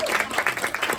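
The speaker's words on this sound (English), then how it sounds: "Round of applause." Applause from a community meeting audience in a conference room, a short dense burst of clapping with rhythmic surges, fairly close and steady, with faint voices mixed in.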